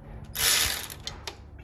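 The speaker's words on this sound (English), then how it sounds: "let me get those tightened" A hand ratchet clicks as it tightens the fuel bowl bolts on a Ford 7.3 Powerstroke diesel, giving one short burst of close, loud mechanical clicking followed by a couple of fainter ticks.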